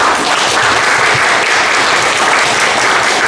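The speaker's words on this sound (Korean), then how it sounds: "강주원 선생님은 큰 박수로 맞아주시기 바랍니다." A large audience gives big, sustained applause to welcome a speaker at a lecture on the China–North Korea border, a dense, even wash of clapping that holds loud and steady throughout.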